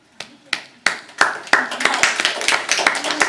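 A single person claps slowly and deliberately, the sharp claps close and evenly spaced at first, then quickening into a faster steady rhythm.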